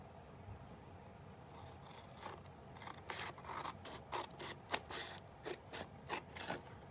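Scissors snip through the plastic pocket of a photo album page, a run of short, close cuts and crisp scrapes that grow louder and quicker toward the end.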